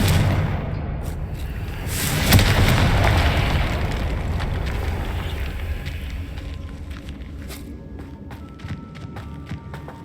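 A Confringo fire-blast spell bursts in Hogwarts Legacy with a loud boom that rolls into a long rumbling tail and fades, with small crackles and game effects over the decay.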